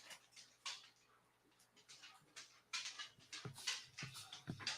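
A spoiled pet dog whimpering and whining in short, high-pitched bursts, fairly close and clear, with soft panting and small household clatter in the background.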